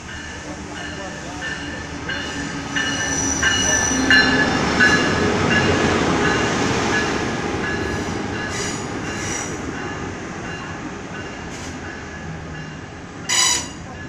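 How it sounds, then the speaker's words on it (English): An Amtrak Talgo passenger train led by a Charger locomotive pulls into the station at Centralia, Washington, its wheels rumbling and squealing steadily over the whole stretch, with a brief sharp burst near the end. "Amtrak train arriving in Centralia"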